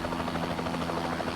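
A Bell 206 JetRanger helicopter in flight gives a loud, steady rotor thump over a dense turbine whine. The sound is continuous and close, with no talking.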